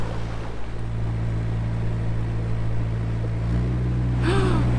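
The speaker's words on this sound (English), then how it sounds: "we've just spotted rapids up ahead" Water rushes over a weir on the River Nene, heard as a steady low roar beneath a narrowboat's engine drone, with a brief gasp near the end.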